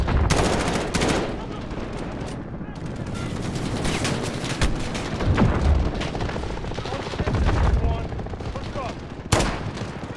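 Gunfire in the shooter game Call of Duty Modern Warfare, with loud bursts of rapid shots and single cracks firing irregularly, some heavier booms mixed in, and a voice briefly talking between the shots.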